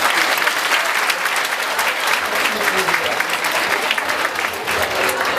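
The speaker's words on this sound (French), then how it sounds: "Voilà, applaudissez-le, monsieur." Sustained applause from an audience at a Senegalese school excellence-day ceremony, steady dense clapping filling the whole stretch at close range with faint voices mixed in.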